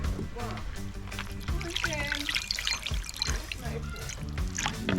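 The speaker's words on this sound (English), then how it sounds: "Add them now to the water." Ackee tipped into a pot of boiling water for a Jamaican ackee and saltfish breakfast, a close splashing pour and trickling water mixed with tonal clatter, while someone speaks over it.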